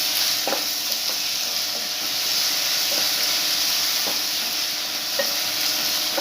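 Crushed kanthari chillies frying and being stirred in a pan, a steady close sizzle and hiss with occasional soft scraping knocks from stirring, no talk.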